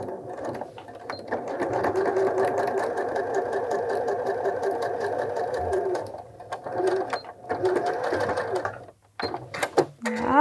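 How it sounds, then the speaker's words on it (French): A sewing machine stitches a collar facing along a pinned seam 1 cm from the edge. It whirs in a long steady run, pauses briefly, then makes a second shorter run, and ends with a few clicks and a brief voice. "on va réaliser la couture là où on a épinglé à 1 cm du bord"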